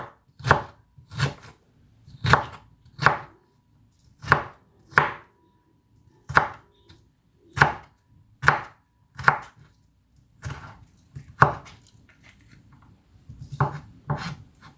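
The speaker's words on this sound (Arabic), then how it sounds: "خديت كما قلت لكم خيار غادي نقطعها هكذا رقيقه" A knife chops cucumber into thin slices on a board, with about fifteen close, crisp strokes at a steady, unhurried pace and only faint background noise between them.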